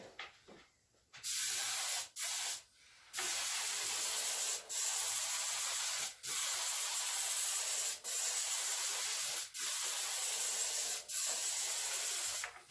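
A paint sprayer coats a live edge dining table in a series of hissing bursts, each lasting about a second or two with short pauses between, close and fairly loud with no talking.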